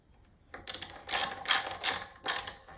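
Screws being driven into the neck plate of a Fender Strat, four short close ratcheting bursts of turning in quick succession, fairly quiet.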